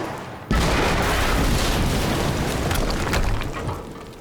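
A sudden, loud, close explosion in the action game Quantum Break bursts in after a quiet moment, then settles into a long, heavy rumble that slowly fades.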